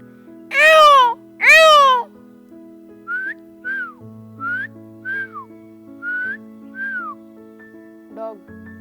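A man vocally imitates bird calls: two loud, drawn-out peacock-like wails, followed by a series of short rising and falling whistled notes like an Indian pitta, close and clear over a faint background hum.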